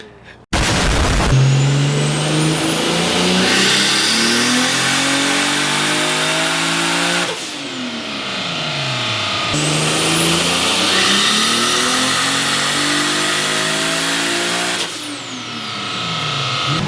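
A Nissan 240SX with a JZ engine swap and a Garrett GTX turbo runs on a dyno at 10 pounds of boost. The engine roars loudly through two long, rising pulls, each ending in a sharp drop-off.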